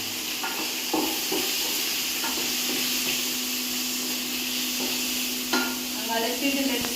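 Fenugreek and fennel seeds fry in a pan with a steady, hissing sizzle, broken by a few light scrapes and clicks of stirring, close and continuous for several seconds.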